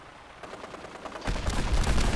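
Vertibird in Fallout 4 opening fire with its weapons in assault mode, a dense volley of rapid gunfire bursts that grows louder and heavier after a brief lighter start.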